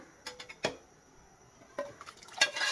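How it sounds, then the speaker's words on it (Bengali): Hot fried tempering poured from a small pan into sweet potato and tomato khatta cooking in a pan: a few metal utensil clinks and scrapes, then a short burst of sizzling that swells near the end, with no talking. "এখন আমি খাটাই ঢেলে দিব। আমি বাগারটা ঢেলে দিব।"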